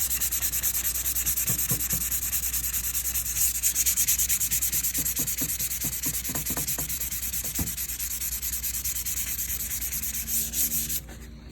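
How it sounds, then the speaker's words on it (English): Hand sanding Bondo filler on a cabinet door with 400-grit sandpaper, a continuous close hiss of rubbing strokes with faint rhythmic pulses, stopping abruptly at the end. "I'm using 400 sandpaper, and I'm just going to sand this to make it nice and smooth."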